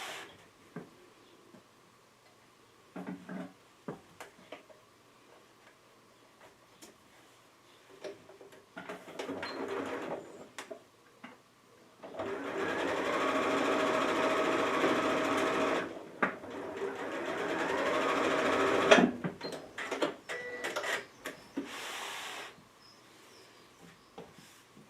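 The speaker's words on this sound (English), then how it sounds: "we're going to sew these right sides together with the seam meeting in the centre" A sewing machine stitches two fabric pieces right sides together, running in several separate bursts: short spurts early on, then a long steady run of about four seconds, then more runs, with faint ticking between them.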